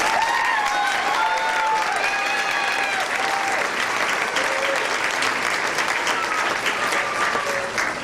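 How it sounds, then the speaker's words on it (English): Sustained applause from a graduation audience, steady and full throughout, with whistles and a few cheering voices rising above the clapping. "Let's give them one more round of applause."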